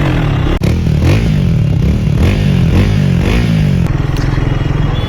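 Triumph Speed 400 motorcycle engine revving through its exhaust, with rising and falling throttle blips in a steady loud run, a brief sharp clatter near the start.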